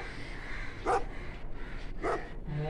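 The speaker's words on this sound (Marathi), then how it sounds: "कुत्र्यांचा आवाज." A dog barks twice at a distance, two short sharp barks about a second apart over faint background noise.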